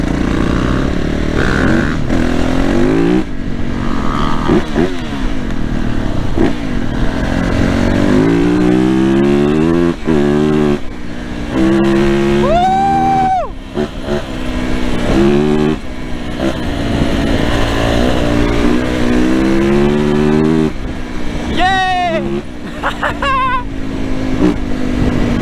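Yamaha YZF 450 four-stroke dirt bike ridden off-road over rocky ground, its engine repeatedly revving up and dropping through gears in loud rising and falling bursts, with wind buffeting and occasional clatter throughout.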